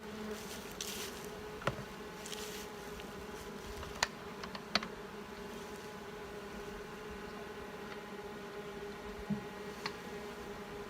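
Honey bees buzzing in an apiary nuc yard in spring, a steady, close, droning hum that runs throughout with a few faint clicks and knocks from hive work.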